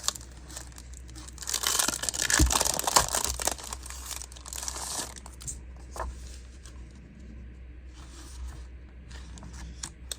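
Vintage Japanese newspaper-style craft paper crinkles and rustles up close, with a loud burst of crumpling early on that settles into softer, sporadic handling noises.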